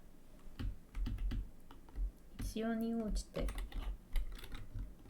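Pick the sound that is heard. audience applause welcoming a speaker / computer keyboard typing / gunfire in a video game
computer keyboard typing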